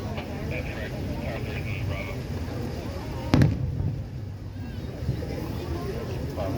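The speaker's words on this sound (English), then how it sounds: "When the fireworks is going to be over?" Fourth of July fireworks over Annapolis, one sharp boom standing out midway over a distant rumbling backdrop, with people talking nearby.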